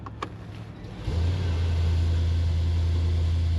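A Mercedes-Benz GLE 580 V8 in sport mode starts with a brief click, then a deep, steady engine drone swells in at about one second and holds loud and close under no talk.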